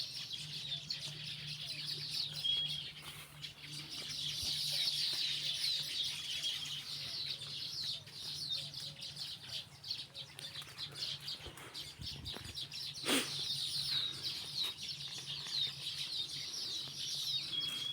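A faint, continuous chorus of many baya weaver birds chirping, sounding somewhat distant and keeping up steadily from start to finish.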